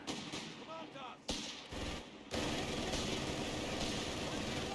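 Machine-gun fire in the strategy game Company of Heroes 3 comes as bursts of sharp gunshots over engine rumble and battle noise, thickening into a sustained loud din toward the end.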